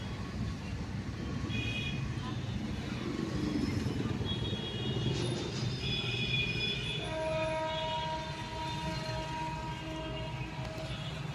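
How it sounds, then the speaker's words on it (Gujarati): A train rumbles past close by with a steady roar of wheels on rails, a high whistle-like tone sounding partway through, and a long horn-like hum toward the end. "બાજુમાં રેલવે ઉપડી है"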